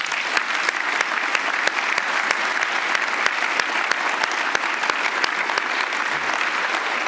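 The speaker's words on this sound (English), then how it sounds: "Another round of applause for Gale." A crowd applauding steadily, dense continuous clapping at a constant level from start to finish, with no talking.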